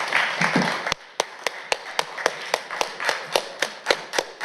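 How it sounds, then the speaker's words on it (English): Scattered, fairly steady hand claps ring out from a conference audience at a Python robotics talk, crisp individual slaps in an uneven rhythm that thin out toward the end. "give him a big hand"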